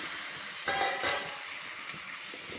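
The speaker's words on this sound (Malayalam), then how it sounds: "ഇനി ഉടൻ തന്നെ ഉപ്പ് പുരട്ടി വെച്ചിരിക്കുന്ന നാരങ്ങ അങ്ങോട്ട് ഇട്ട് യോജിപ്പിക്കാം" Salted lemon pieces drop into a frying spice mix for Kerala-style lemon pickle, setting off a sudden burst of sizzling that settles into a steady hiss as the mix is stirred.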